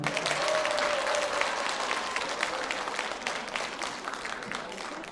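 Steady applause from an audience, a dense wash of clapping that holds for several seconds and slowly thins toward the end.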